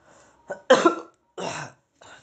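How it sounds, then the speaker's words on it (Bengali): A person coughs several times in short harsh bursts, close and fairly loud, with brief pauses between them. "কাশি হচ্ছে।"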